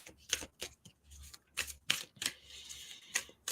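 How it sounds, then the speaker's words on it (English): A deck of oracle cards is shuffled in quick bursts of papery riffling and flicking, irregular and close, with short pauses between. "So each morning, you're going to shuffle them."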